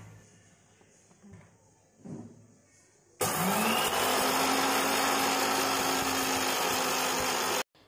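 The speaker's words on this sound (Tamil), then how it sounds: "எல்லா பொருட்களையும் இதில் போட்டு வறுத்துட்டு நல்லா ஆற வச்சு மிக்சி ஜாரில் போட்டு அரைச்சி எடுத்து வச்சுக்கோங்க" A kitchen mixer grinder grinds roasted spices for sambar in its jar. After a few soft kitchen noises and faint talk, the motor kicks in with a loud, steady whine that holds for about four seconds and then stops abruptly.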